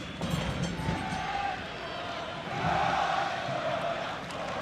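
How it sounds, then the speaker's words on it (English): Sellout stadium crowd at a U.S. Open Cup soccer match at Stewart Stadium on Long Island, a steady roar of many voices that swells midway, with a commentator talking over it. "Sellout crowd here at Stewart Stadium on Long Island."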